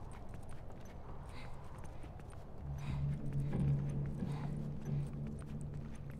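Footsteps in the video game The Last of Us: Left Behind tread in a rhythmic series over a low steady hum, quiet and a little distant at first, then growing slightly louder.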